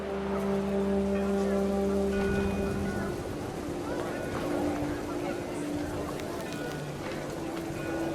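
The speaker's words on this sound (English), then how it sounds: "The rain came down in buckets then" Steady video game rain pours down in a dense, continuous hiss, joined by low rumbling tones and scattered splashy patter throughout.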